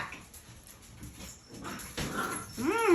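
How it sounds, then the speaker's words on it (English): Puppies playing in a home kitchen give soft whimpers and small yips, faint at first, then a rising, louder whine close by near the end. "every video you're going to hear some puppy dogs"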